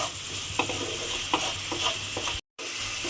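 A boiled potato mixture seasoned with salt and a little sugar is stirred and sautéed in a hot pan: a steady sizzle with repeated scraping strokes of a spatula, close up, with a momentary break in the sound near the end.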